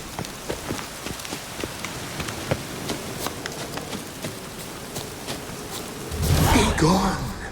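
Rain in The Witcher 3 video game patters as scattered drops ticking over a soft wash, moderately faint, swelling into a louder rush near the end.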